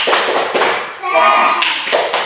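A classroom does a rhythmic 'tepuk semangat' ice-breaking clap chant, with sharp close claps in a quick patterned beat mixed with voices chanting along.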